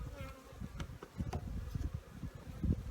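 Honeybees buzzing during an early spring hive inspection, a faint low droning hum that rises and falls as bees fly close by, with soft rustles and handling noises around it.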